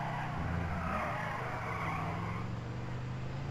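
Car engine in the GTA 5 video game revving and shifting pitch steadily as the vehicle drives, with a brief tire skid near the start, close and continuous with no talk.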